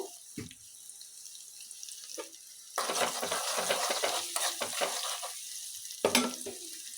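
Onions with salt sizzle in a pan, a steady frying hiss rising partway through with occasional stirring clatter, close and alone with no talk.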